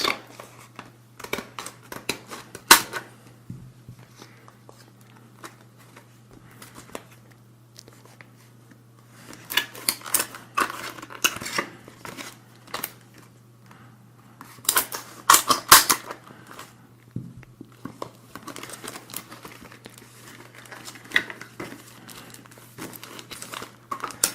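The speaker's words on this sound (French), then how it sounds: "je me suis muni d'un petit ciseau. C'est mieux pour ouvrir le blister rigide" Small scissors snip and crinkle at a rigid plastic blister pack of Panini Fortnite trading cards, close-up bursts of sharp cutting, clicking and crackling plastic separated by quiet pauses.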